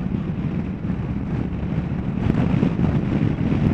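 Honda CMX 1100 Rebel DCT motorcycle on its standard exhaust pipe, a steady low engine drone under heavy wind rush while riding, the loudness swelling slightly toward the end.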